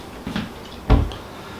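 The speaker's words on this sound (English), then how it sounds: "Then shut the door" A cabinet door shuts with a single close, solid thump, preceded by a lighter rustle or knock as it swings closed.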